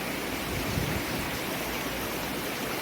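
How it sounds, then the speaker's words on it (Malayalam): Small stream flowing just below the Mamanathamma temple grounds, a steady, even rush of water like soft rain, continuous and close with no voices. "അതിന് തൊട്ട് താഴേക്ക് ഒഴുകുന്ന ചെറിയൊരു അരുവിയാണ് ഈ കാണുന്നത്"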